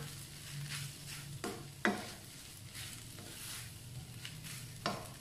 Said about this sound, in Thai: ผัดทุกอย่างให้เข้ากันค่ะ